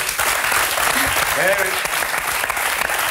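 Studio audience at a French TV talk show breaks into sustained applause, dense steady clapping filling the room for the whole stretch, with a voice briefly rising above it.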